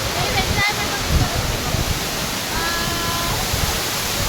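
Jhari Falls in Chikkamagaluru gives a constant broad rushing roar of falling water, steady and close, with a person talking under it.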